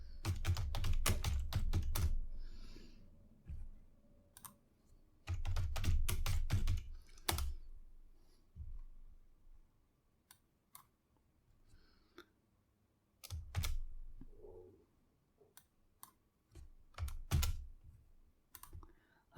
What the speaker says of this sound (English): We'll enter our password here.